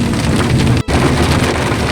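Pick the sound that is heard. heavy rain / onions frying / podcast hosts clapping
heavy rain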